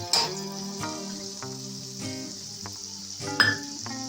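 Hot oil sizzles steadily in a pan after turmeric and chili mixed in water are poured in, with occasional sharp clinks of a utensil against the metal and soft stirring.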